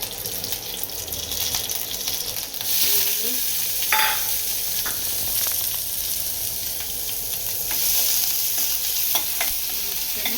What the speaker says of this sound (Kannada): ಈರುಳ್ಳಿ ಈ ಥರ ಫ್ರೈ ಆಗಿರಬೇಕು ಕೆಂಪುಗೆ